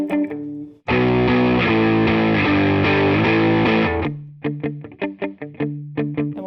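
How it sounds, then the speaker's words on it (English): Electric guitar played through an EarthQuaker Devices distortion pedal, a loud sustained distorted chord ringing for about three seconds, then a quick run of choppy palm-muted single notes. "it's just like a nice versatile distortion"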